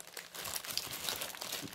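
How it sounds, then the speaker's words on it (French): Close, quiet crinkling and rustling of paper being handled and crumpled for a couple of seconds. "Excuse-moi pour le bruit de papier."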